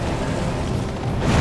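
A dense, rumbling explosion roars for just over a second in the video game Level: Max, a loud, close, continuous boom with no clear pauses.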